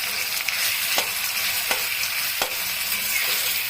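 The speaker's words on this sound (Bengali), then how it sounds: "কড়া করে এখন আলু আর পেঁয়াজ, চিংড়ি মাছ তিনটাই ভাজা হয়ে গেছে" Potatoes, onion and prawns frying together in a pan, a continuous close sizzle with a few soft utensil taps as the pieces are stirred.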